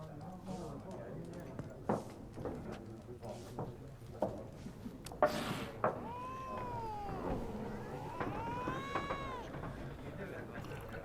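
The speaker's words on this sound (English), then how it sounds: "That cat doesn't sound happy." A cat in The Witcher 3 meows unhappily and caterwauls several times in the second half, its drawn-out rising and falling cries standing out over game sounds and speech.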